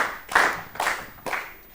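An audience at an Ethiopian children's TV quiz show claps for a student contestant in three short, sharp bursts of applause, close and fairly loud, with no talking.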